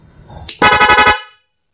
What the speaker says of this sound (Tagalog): Ito yung rapid horn niya.